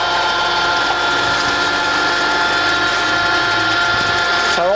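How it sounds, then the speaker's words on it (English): Ibarmia A32 geared head drill press running with its quill power-feeding downward at about 95 RPM, a steady loud mechanical whine and hum of gears with a rising tonal sweep near the end. "if I bring that quill down and engage that feed, then that's feeding down there now"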